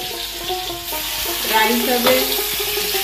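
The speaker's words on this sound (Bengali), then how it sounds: "এখানে এখন রেখেছে হচ্ছে কুচরি ভাজা, পটল ভাজা, কাঁকরোল ভাজা, ঢ্যাঁড়স ভাজা" Vegetables such as pointed gourd, spiny gourd and okra sizzle steadily as they fry in a pan, with faint stirring and clinks throughout and no talk.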